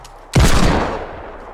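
A single loud, close burst of Fortnite video game gunfire cracks out suddenly and rings off in a decaying rumble.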